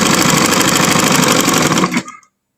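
A sewing machine running fast and steady as it stitches two layers of fabric, a loud close mechanical rattle that stops abruptly near the end.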